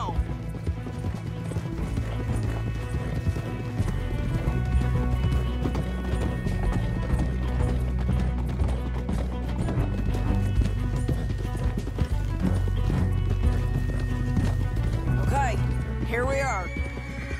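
Horse hooves clatter in a fast galloping rhythm over a dense wash of game music and effects in Red Dead Redemption, with a whinny near the end.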